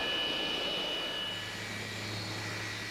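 Large airplane just landed on a wet, humid day, its jet engines giving a steady whining roar with a high tonal whine, heard from some distance and fairly faint, with no voices.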